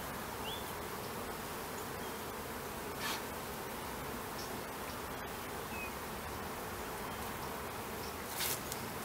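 Dense, steady buzzing of a relocated feral honeybee colony during a hive inspection, a continuous swarm-like drone close by with occasional louder passes of individual bees, no voices.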